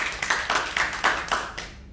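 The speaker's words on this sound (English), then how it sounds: "So let's give ourselves a round of applause" A small group of people claps together at a business action-plan meeting, with about eight distinct, fairly close claps in an uneven rhythm that tail off toward the end.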